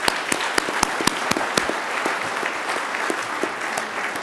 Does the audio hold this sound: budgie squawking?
no